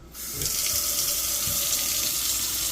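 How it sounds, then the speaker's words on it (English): A Moen kitchen faucet is switched on, and after a brief click water runs steadily into the sink. The stream is close and continuous, with faint knocks and shuffling underneath. "taps are turned on"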